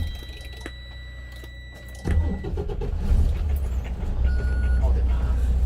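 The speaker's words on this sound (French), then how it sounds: "Alors on va commencer par démarrer le véhicule" A heavy vehicle, likely a truck or bus with air brakes, cranks and fires up, its engine catching with a sudden loud jump into a steady low rumble that idles on, with faint speech and a beep in the background.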